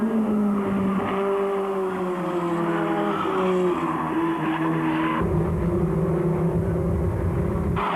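Several Formula Ford race cars scrap closely at Anderstorp, engines screaming loud and near with shifting pitch as they pass and change gear, a continuous dense roar throughout.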